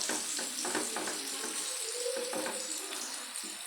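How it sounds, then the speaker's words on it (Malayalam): Nethal (anchovy) fish frying in a home kitchen, a soft, steady sizzle and crackle with faint scattered pops, quiet and continuous throughout. "നെത്തൽ വറുക്കാമെന്ന് വിചാരിച്ച്"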